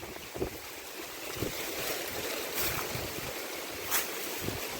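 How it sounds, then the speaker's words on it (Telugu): Wind sweeps through a six-month-old Yelakki banana farm, giving a faint, steady rushing hiss with a few soft gusts swelling and fading and no voices over it. "గాలి చూసారు ఎలా వస్తుందో"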